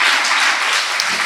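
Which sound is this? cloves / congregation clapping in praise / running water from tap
congregation clapping in praise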